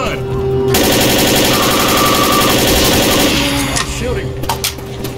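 Video game gunfire, rapid automatic bursts, loud and close, sustained for several seconds with engine-like rumble beneath, then tapering into scattered shots.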